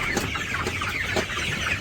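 Medium and large chickens being caught, clucking and squawking continuously up close in an agitated, overlapping flurry without pause.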